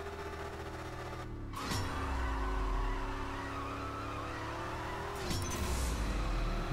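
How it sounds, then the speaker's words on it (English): Race car engine roaring and shifting under hard acceleration during a launch in the mobile racing game CSR 2, a steady loud engine tone with two gear-change drops and a rough, spinning-tire texture, no voices. "We got lots of wheel spin there."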